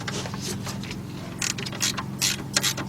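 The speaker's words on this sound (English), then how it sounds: "now we're going to tighten up this nut" A 3/8-drive ratchet turns a 10mm nut on the alternator of a 1977 Buick LeSabre, giving rapid, close clicking in short bursts that speed up and grow louder toward the end.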